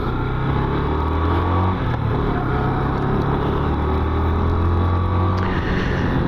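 Continuous engine drone of a 2022 Yamaha FZ15 ABS motorcycle during a test ride, steady and close with a brief dip and shift partway through, wind rush underneath.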